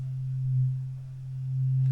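A low sine-wave synth bass tone from a drill bass patch with a resonant low-pass filter: one sustained close note that swells, dips and swells again in volume as the cutoff sweeps, with no voices.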